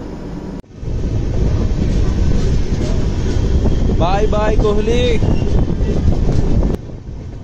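A passenger train rumbles along steadily on a long journey, with loud, constant wheel and wind roar filling the clip. Someone speaks briefly partway through.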